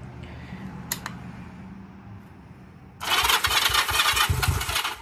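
A Honda CM185 Twinstar motorcycle, fed from a small jar of gas hooked to the carburetor, is quiet until its engine fires at about three seconds. It catches into a loud, rough, steady running clatter, heard up close with no talk.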